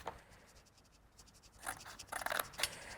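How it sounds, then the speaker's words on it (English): Scissors snipping through a paper box lid at each corner, a few short crisp cuts clustered near the end after a quiet stretch, close and fairly soft. "And then I'm just going to cut a little bit off."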